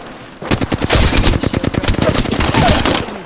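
Rapid automatic gunfire in a battle royale shooter game, with loud, close bursts of shots in a fast, steady rhythm after a brief quiet start.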